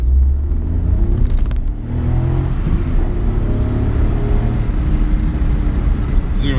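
A Suzuki Alto Works kei car with a tiny engine accelerates, a steady low engine drone building under continuous road and cabin noise, with people talking inside.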